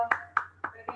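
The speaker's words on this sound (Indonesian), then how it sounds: "Kasih tepuk tangan dulu." Four distinct hand claps in a Zoom meeting, evenly spaced and close to the microphone over a low steady hum.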